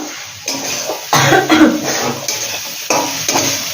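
Ground coriander and cumin paste cooks in a pan as small amounts of water are added, bursts of loud close sizzling and bubbling that flare up and die back several times, with some stirring and scraping.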